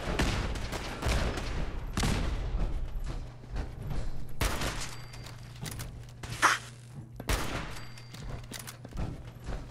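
Bursts of gunfire in the video game Fallout 4, with repeated loud volleys and sharp shots spread across the scene amid game ambience.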